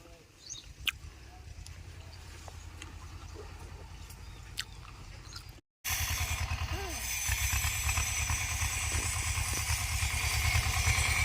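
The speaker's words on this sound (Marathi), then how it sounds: "ट्रॅक्टरने नांगरणं चाललंय ट्रॅक्टरचं काम" A tractor engine chugs with a steady low throb while ploughing a farm field, growing louder and rougher after a brief gap partway through.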